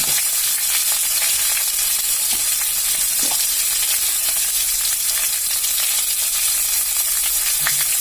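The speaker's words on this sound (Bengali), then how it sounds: "ভালো করে এটা মিক্স করে ভেজে নেব আমি।" Tomato and green chillies sizzle steadily in hot oil in a pan, a continuous dense crackle with occasional stirring scrapes, close and fairly loud with no voices.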